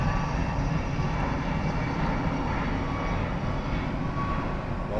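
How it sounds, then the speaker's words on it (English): An American Airlines airliner departs Miami airport with a continuous broad engine roar that stays loud and steady throughout, heard from a distance with no voices. "American Airlines departing to Guadalajara,"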